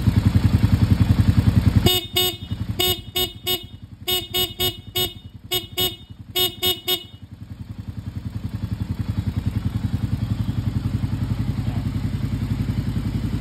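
Low-pitch horn fitted to a Cafe400 motorcycle, sounded in about a dozen short honks in quick uneven bursts over the loud, steady idle of the engine, which carries on alone afterward.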